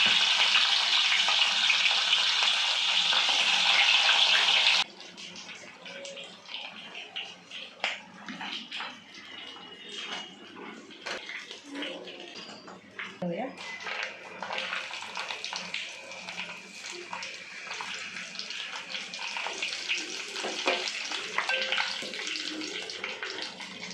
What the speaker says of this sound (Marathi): पनीरचे पीसेस टाकते मी